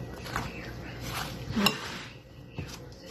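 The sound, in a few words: mixing cinnamon into apple pie filling with a spoon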